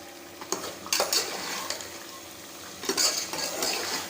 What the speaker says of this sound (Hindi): अब हम मसाले की अच्छी तरह से भुनाई करेंगे